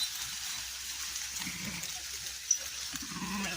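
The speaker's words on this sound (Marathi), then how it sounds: "या भक्तांनी बाळूमामाची मेंढरं आपल्या उभ्या बाजरीमध्ये सोडलेली आहेत." Faint sheep bleats come from a short distance over a steady outdoor hiss, with a brief sharp click partway through, as the flock grazes in a standing millet crop.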